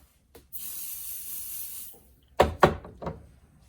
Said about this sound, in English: I'm going to spray my felt